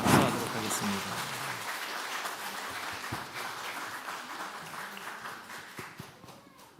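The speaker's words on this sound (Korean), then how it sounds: "박수하도록 하겠습니다." A church congregation applauds in a sanctuary, a dense burst of clapping that starts strongest and slowly thins and fades over about seven seconds.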